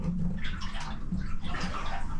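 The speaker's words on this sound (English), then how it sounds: "I can hear that water underneath" Water sloshes and churns in the hull beneath a salvaged boat, a steady close splashing and gurgling that continues without pause and without talk.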